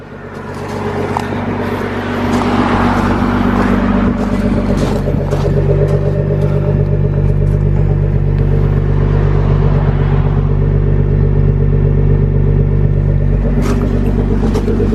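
A Nissan GT-R R35 fitted with an Armytrix valved exhaust, already warm, rumbles steadily at idle close behind the car, a deep continuous drone with a slight rise at the start and no voices.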